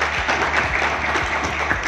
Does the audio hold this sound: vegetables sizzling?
no